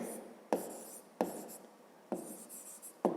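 Pen or chalk writing out a maths exercise solution, a soft continuous scratchy rubbing broken by four sharp taps as strokes begin, close and fairly quiet, with no voices.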